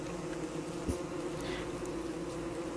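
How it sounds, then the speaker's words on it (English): Killer bees buzz steadily in the video game Don't Starve, a dense, continuous insect drone close up with a faint tone underneath and no talking. "Oh, that's a lot of killer bees."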